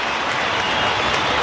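A 90,000-strong football stadium crowd at an AFL semi-final between Collingwood and Fremantle roars and applauds in a dense, continuous wash of noise with no voices standing out.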